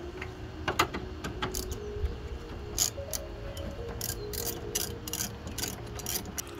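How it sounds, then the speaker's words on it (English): A ratchet with a 10-inch socket extension clicks steadily while backing out a headlamp screw on a 2013–18 Toyota RAV4, a close, continuous run of fine mechanical ticks with a few sharper clicks. "You can just simply use a little longer 10-inch socket and insert it over there and just remove this screw."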